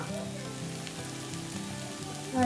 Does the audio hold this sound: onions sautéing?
yes